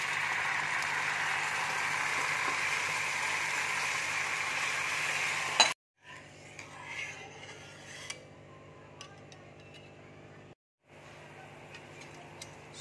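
Veg Manchurian fries in a pan as soy sauce goes in. A steady hiss of sizzling gives way to quieter frying, with a few clinks of utensils against the pan.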